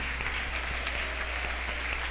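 A church congregation applauds at a fast, steady, dense pace, a continuous patter of many hands heard fairly close with no voices above it across the whole stretch.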